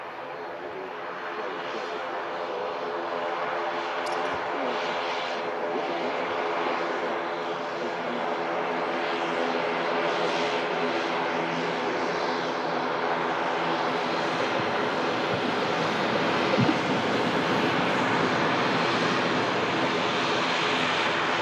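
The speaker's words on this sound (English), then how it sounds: "we've got a TUI Dreamliner" Large TUI Boeing Dreamliner airliner at Manchester Airport, a steady, loud broadband engine roar sustained throughout with no break, heard from outside at the airfield.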